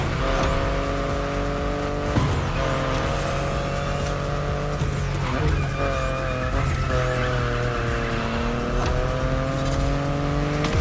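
BMW i8 driving in The Crew Motorfest, its engine a steady layered drone with shifting revs, rising and falling tones and brief tyre squeals, loud and continuous with no talk.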